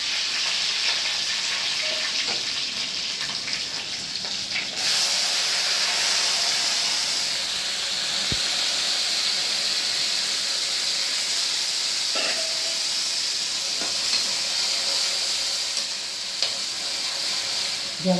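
Green chillies sizzle loudly in hot oil already tempered with popped mustard seeds and dried red chillies for a Gujarati dish, a continuous frying hiss with a sudden surge partway through and occasional sharp spits.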